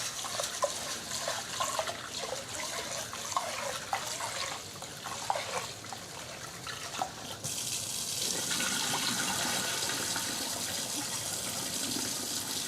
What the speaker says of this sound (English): I always wash the rice.